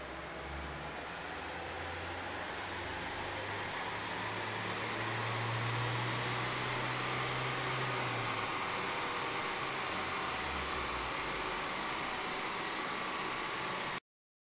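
Ford Transit 2.2 TDCi van at 92 kW running on a chassis dyno, a steady loud broadband roar of engine and rollers with a low drone swelling in the middle, cutting off abruptly at the end.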